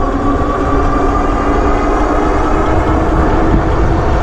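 An Eilleo Spacewalk M7 electric bike runs on throttle alone, giving a loud, steady motor and road roar with heavy wind rumble that holds constant throughout, with no voices.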